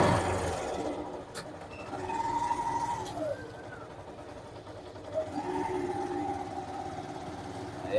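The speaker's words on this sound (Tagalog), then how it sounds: "Hey guys, tricycle." Motorized tricycle engine idles at a steady low rumble on a street, with a faint siren-like whine sliding up and down over the mid-range.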